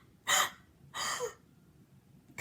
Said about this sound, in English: I did a gasp. Then the other children did gasps too.